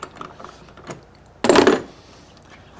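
Small screws are backed out of a Ford Explorer tail light housing, giving a short burst of close metallic rattling and scraping with a few faint clicks around it.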